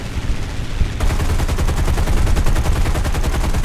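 Dense, rapid machine-gun fire from the War Thunder combat game erupts after a brief lower rumble and continues loud and unbroken, with fast rattling bursts close up and no speech over it.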